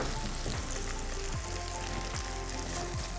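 Chili paneer sautéing in a hot pan gives a loud, continuous sizzle, broken by a few regular scraping strokes of a spatula stirring it, with no voices.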